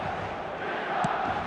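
Stadium crowd in the eFootball video game, a steady broad roar of thousands of fans filling the background at an even level, with one brief brighter swell near the end.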